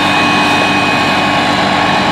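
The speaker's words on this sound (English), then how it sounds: "This tractor is about" A Challenger MT875C tractor of about 575 horsepower pulls a 60-foot air drill through wheat stubble, seeding double crop beans. Its engine gives a loud, steady, broadband drone that stays unbroken throughout, with no talk.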